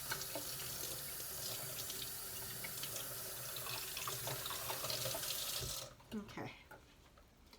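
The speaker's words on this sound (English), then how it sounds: "I'm going to go ahead and wet this root ball down" Steady running water pours over a dry plant's root ball for about six seconds, then cuts off, leaving a few soft drips and handling sounds; a voice speaks briefly near the end.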